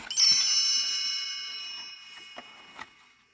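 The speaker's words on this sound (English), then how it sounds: "You will know it is time to turn the page when you hear the chimes ring like this" A single bright page-turn chime from a 1987 book on tape rings out and slowly fades away, followed by a couple of soft clicks near the end.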